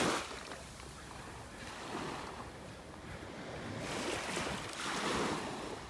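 Small ocean waves washing onto a beach at North Naples, Florida, swelling and receding in soft surges over a steady windy hiss, at moderate distance.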